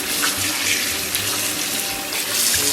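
Water from a tap runs steadily as a whole leg of lamb is rinsed, a continuous close splashing gush.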